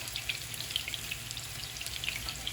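Vegetable oil is poured into a pot preheated on maximum heat, giving a faint, steady sizzle and crackle with small scattered pops, heard alone at low volume.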